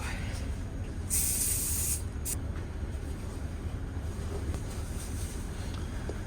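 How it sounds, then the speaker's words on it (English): A can of spray adhesive sprayed onto the wall of a Ram ProMaster van lets out a sharp hissing burst for about a second, then a brief second spritz, over a steady low background hum. "spray this adhesive stuff directly on the wall"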